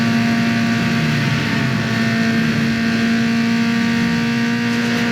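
A car in the racing video game Need For Speed Underground 2 firing its nitrous boost, a steady, loud engine roar with a sustained whine that holds across the whole stretch without any talk.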